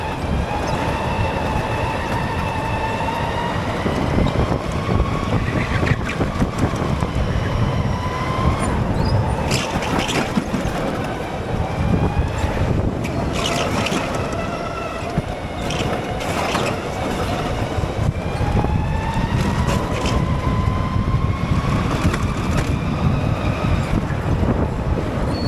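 Go-kart lapping the Evolt JB track, a buzzing motor that rises and falls in pitch through acceleration and braking, loud and continuous with rattling and thumps over the run.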